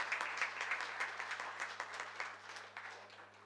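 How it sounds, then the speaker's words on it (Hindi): Sustained, dense applause from a theatre audience at a people's theatre drama festival in Banaras, steady and loud throughout with individual claps blurring into a continuous roar. "एक बार और जोरदार तालियां बजाइए।"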